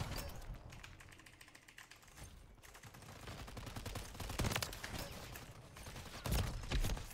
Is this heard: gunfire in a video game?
yes